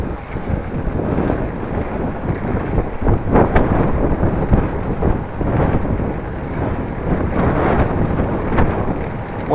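Wind buffets the microphone of a cyclist riding outdoors in the Netherlands, a loud, steady low rumble with gusty swells throughout and no speech.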